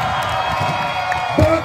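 A crowd at a 24-hour mountain bike event cheers and applauds a backflip, a dense roar of voices and clapping with an announcer talking over it and a brief swell near the end.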